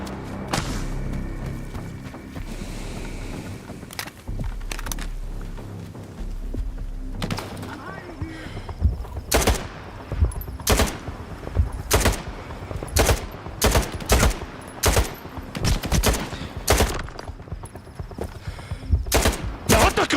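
Gunfire in the shooter game Stalker 2, a steady run of sharp loud shots, single cracks and short bursts, coming faster and denser over a low rumbling background.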